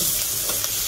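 Meat frying in a pot for a green fava bean stew, a dense, loud, continuous sizzle heard up close for under a second.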